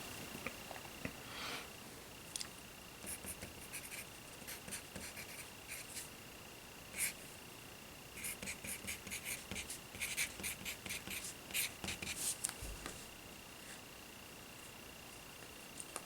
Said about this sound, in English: so I'm going to have to write small.